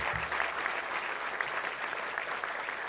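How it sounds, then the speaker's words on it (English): A room full of people applauds healthcare workers at an evening event, steady, even clapping that continues without a break, moderately distant and soft in level. "I want to raise a round of applause"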